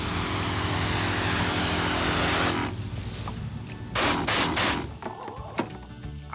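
A battery-powered rolling sprayer hisses and whirs loudly and steadily, then cuts off, followed by a few short spray bursts and gaps.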